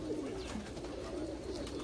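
Salara Kasuri long-feathered pigeons coo softly and repeatedly, a low rolling murmur close by, with no voices over it.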